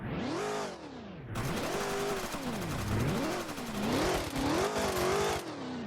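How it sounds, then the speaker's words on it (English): A supercharged car engine in the video game ER:LC revs repeatedly, pitch sweeping up and down in several rising and falling waves, loud and close with a gritty, whining edge. "Just listen to me rev it."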